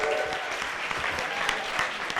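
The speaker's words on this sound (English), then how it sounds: "Come on, give me some round of applause." A crowd at an afternoon event in Montenegro claps steadily and densely, loud and even throughout with no pause.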